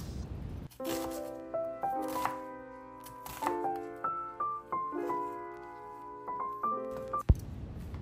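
A knife slices onions thinly on a cutting board in a quick run of crisp cuts, with repeated short strokes over several seconds and a sharp knock near the end, while music plays softly underneath.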